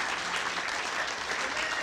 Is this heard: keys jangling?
no